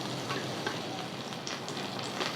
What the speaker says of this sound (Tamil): வெங்காயம் கொஞ்சம் நல்லா வதங்கட்டும் ஒரு அஞ்சு நிமிஷம் வதக்குவோம்